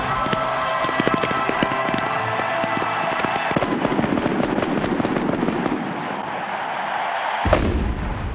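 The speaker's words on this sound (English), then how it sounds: "Fireworks that lit up the Miami sky" Fireworks bursting over the Miami sky at the 1994 Super Bowl XXIX, a dense, continuous barrage of loud crackling pops and booms with one sharp burst near the end.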